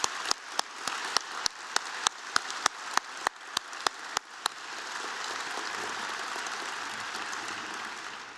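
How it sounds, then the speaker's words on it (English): Applause from an audience at a Middle Tennessee Council Eagle Scout banquet, beginning as a run of sharp, evenly spaced claps and swelling into a steady wash of clapping from many hands. "Let's give them another round of applause while they've been scouting"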